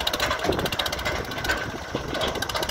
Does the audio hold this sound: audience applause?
no